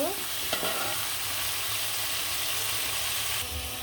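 A rohu fish head fries in hot oil with a loud, even hiss and a brief splatter at the start, heard close and alone without talk.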